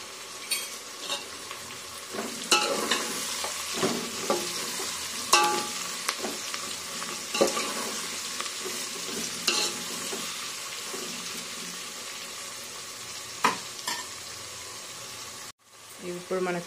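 Crushed garlic and cumin are stir-fried in a pan, giving a loud, continuous sizzle with repeated scraping stirs and clinks of a spoon. A short pause comes near the end.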